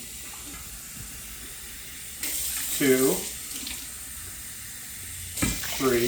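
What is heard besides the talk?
water pouring from a tap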